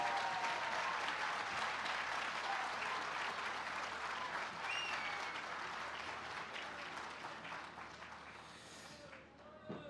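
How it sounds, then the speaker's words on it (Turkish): A crowd at a CHP political rally in Istanbul applauds warmly for party leader Özgür Özel, dense continuous clapping that slowly thins and fades toward the end, with a few whistles rising above it. "Şimdi lütfen hep birlikte büyük bir coşkuyla alkışlayalım"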